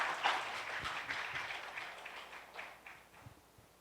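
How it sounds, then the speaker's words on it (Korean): An audience applauds at the close of a statistics lecture. The clapping is faint and distant and dies away over a few seconds. "그럼 오늘 강연해 주신 연구원님께 한 번 더 큰 박수 부탁드리겠습니다."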